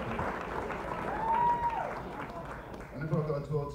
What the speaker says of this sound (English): applause for you.